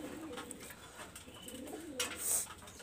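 Pakistani high flyer pigeons coo softly in low, repeated calls close by, with a brief brighter chirp near the end over quiet background.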